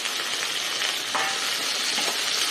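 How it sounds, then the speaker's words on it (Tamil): Onions and tomatoes sauté together in a pan for pongal sambar, a steady loud sizzle running throughout with faint stirring scrapes and no voices. "இப்போ நான் வந்து வெங்காயத்தை போட்டு வதக்கிறேன் நான் எல்லாத்தையும் ஒன்றாவே போட்டு வதக்க போகிறேன்"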